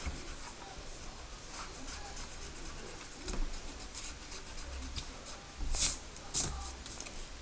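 An eraser rubs over pencil lines on paper while a two-point perspective tree house drawing is cleaned up. Soft, quiet scrubbing comes in irregular strokes, with a couple of sharper, louder swipes near the end.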